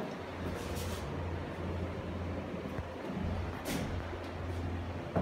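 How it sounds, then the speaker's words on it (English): Bathroom extractor fan drawing air with a steady low hum and broadband whoosh, continuous throughout at moderate level in the background, with a few faint handling knocks. "Good suction, you can probably hear that in the background."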